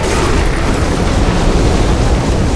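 Explosion over lava in the game Dark Souls Remastered, a loud, dense roaring blast that stays at full force with a deep rumble the whole time and no voices.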